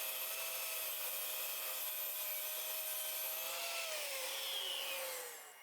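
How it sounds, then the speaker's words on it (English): A track saw trims the edge of a plywood panel, a loud continuous high whine with the blade tone dipping slightly under load near the end before the cut finishes and the sound drops away. "Use a track saw to trim off the first edge."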